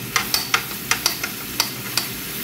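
A utensil stirs garlic and onion frying in a pan, giving sharp scraping clicks at an uneven pace, about nine strokes over a low sizzle, with no talking.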